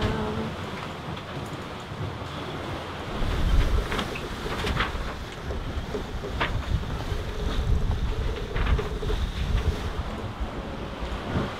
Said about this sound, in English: we can get the sails up and hopefully sail the rest of the way